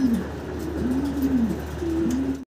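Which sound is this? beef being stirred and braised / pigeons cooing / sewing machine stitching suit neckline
pigeons cooing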